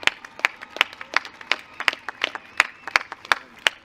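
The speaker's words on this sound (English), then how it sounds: "We deserve a big round of applause." A graduation audience at a high school ceremony claps sparsely, a handful of sharp, distinct hand claps spaced irregularly, close and crisp against near silence, with no talk.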